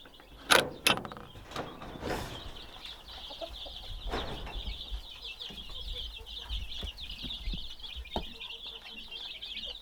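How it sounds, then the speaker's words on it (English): Nearly 100 baby chicks in a backyard shed peep continuously in a high chorus, with a few clunks and knocks of a door or latch early on. "In here we have just shy of 100 baby chicks."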